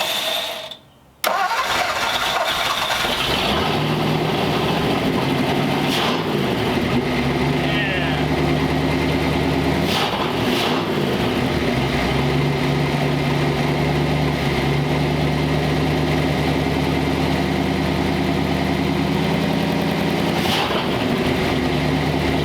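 The engine of a 1939 Ford Tudor hot rod, started with the dash ignition switch, catches quickly after a short pause and settles into a steady, loud, rumbling idle close by that lasts to the end.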